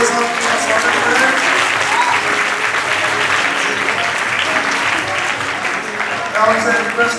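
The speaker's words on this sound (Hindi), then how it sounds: "एक बार जोरदार तालियों के साथ उनका स्वागत करें।" A large crowd at a Ganesh festival event in Bhiwandi claps loudly and continuously, dense steady applause filling the space with no pause.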